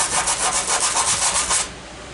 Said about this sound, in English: this is 120 grit right here. And I run this across it, nice flat surface